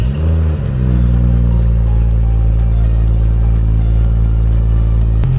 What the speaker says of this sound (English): here is a cold start on a catted downpipe Valvetronic 435